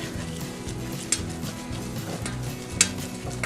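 A flour mixture is stirred in a pan on the stove for homemade tomato soup, giving a steady close scraping and soft sizzle with a couple of brief utensil clinks.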